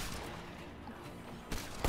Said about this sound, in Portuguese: Que horrível essa arma, dei 3 tiros ali